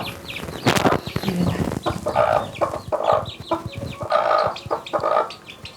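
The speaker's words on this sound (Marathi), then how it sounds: "कुक कुक कुक चाललं आहे कोंबड्यांचं" Hens cluck busily in a close, crowded chorus inside a chicken coop room, with a sharp squawk and a flutter of wings early on, then steady repeated clucking.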